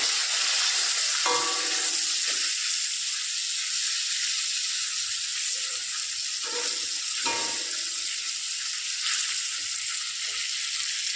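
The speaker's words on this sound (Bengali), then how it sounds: "তো চলো মাছটা ভেজে নিই, রান্নাটা করে নিই তাড়াতাড়ি।" Fish rubbed with salt and turmeric fries in a pan in a home kitchen, a continuous close hiss and sizzle with a few brief clinks and scrapes along the way.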